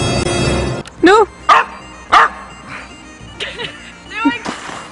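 A dog gives several sharp, loud bow-wow barks in quick succession with yips mixed in, close to the microphone, after an opening burst of other noise, with quieter pauses between the barks.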